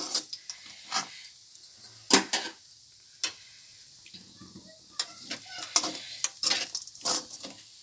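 A spoon stirs poha upma in a metal pan, giving irregular scraping clatters and sharp clinks with pauses between them, close and moderately loud, and a voice speaks briefly in places.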